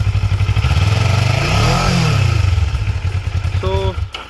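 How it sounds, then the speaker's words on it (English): A motorcycle engine fitted with a quick shifter revs up and back down close by, a loud throbbing roar that rises in pitch and then falls, ending in a clattering idle. "Rev it a bit as well to check."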